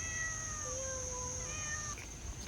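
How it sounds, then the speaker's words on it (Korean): A cat meows twice, a drawn-out wavering cry followed by a shorter one, fairly faint against a quiet background hum, at a resort in Ao Nang, Thailand. "고양이."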